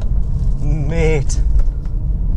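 Porsche 911 Carrera S (997 generation, rear-wheel drive) engine driving hard, a loud rising exhaust note with harmonics climbing through revs, heard close and continuous over road and wind rumble.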